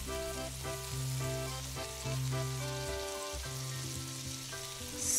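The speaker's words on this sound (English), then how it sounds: "add 1 tablespoon of fish sauce and simmer under low heat until the sauce dry out" Shrimp simmering in caramelized fish sauce over low heat, with a steady, close bubbling sizzle and some faint tonal hum beneath, with no talk.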